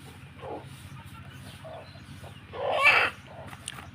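A chicken clucks in short bursts at close range, with a louder squawking call near the end over quiet background hum. A faint voice is present.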